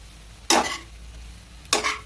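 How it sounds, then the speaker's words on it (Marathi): Boiled macaroni pasta with masala spices is stirred in a pan for cheesy masala pasta, two separate sizzling scrape strokes close by, each about a quarter second long. "आता आपण आपली जी मायक्रोनी आहे बॉईल करून घेतलेली, तर या ठिकाणी ते घालून घेऊयात आणि याला छान असं हलवून घेऊयात आपण"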